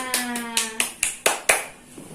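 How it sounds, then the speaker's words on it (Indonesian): A classroom of students gives a short burst of about six or seven sharp, rhythmic claps for Zahra Dwi Husna during a middle school math lesson, fairly close, over a faint held tone at the start. "Tepuk tangan dulu dong semuanya untuk Zahra Dwi Husna."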